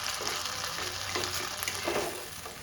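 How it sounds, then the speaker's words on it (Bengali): A mixture of soy sauce and tomato sauce hits hot oil and fries with a loud, continuous hiss and sizzle, with faint stirring beneath it. "এরপর সোয়া সস আর টমেটো সসের মিক্সচারটা আমি ওই তেলেই দিয়ে দেব।"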